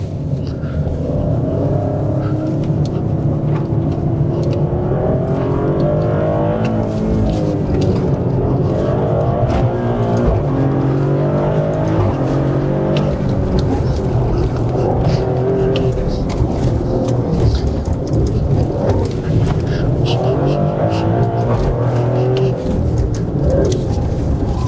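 Maserati Grecale driven hard in Corsa mode with stability control off and manual shifting, a loud continuous engine roar surging through acceleration with shifting pitch sweeps, heard from inside the cabin.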